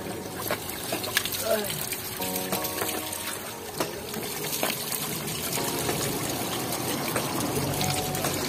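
Water trickles and splashes steadily as someone washes their face outdoors on a Shimla trip, a continuous close pouring sound with people talking over it.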